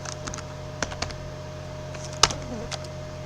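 Typing on a computer keyboard while entering dimensions in CAD software: a few sparse, close keystrokes and one sharper key press over a quiet steady background hum.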